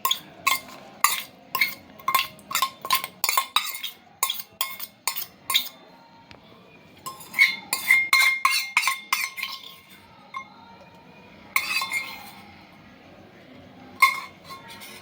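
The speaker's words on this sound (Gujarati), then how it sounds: "ના મેથીની ભાજીને હું બરાબર મિક્સ કરી લઈશ આવી રીતે" Spoon clinks steadily against a bowl while fenugreek leaves are worked into muthiya dough with baking soda, a quick regular rhythm for several seconds, a pause, then a second burst and a few scattered taps, close and fairly loud.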